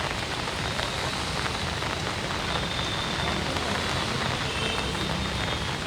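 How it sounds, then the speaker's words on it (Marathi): Heavy monsoon rain pours down steadily in Nashik near the Godavari River, a dense unbroken hiss of drops with no pauses. "जोरदार पाऊस बरसतो आहे"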